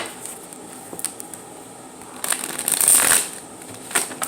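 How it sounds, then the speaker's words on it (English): Tarot cards being shuffled and bent close up, soft papery flicks and a louder riffling burst in the middle, quiet and without talk. "Bending up my cards because I like the air to flow through them because it clears the cards."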